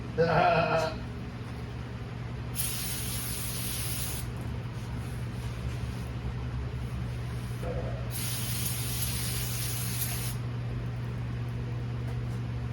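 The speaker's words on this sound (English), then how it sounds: "Spray, wipe, and rinse" Two long bursts of cleaner spray hiss during rear brake pad and rotor replacement on a Buick Regal 2.0L turbo, a few seconds each and separated by a pause, over a steady background hum.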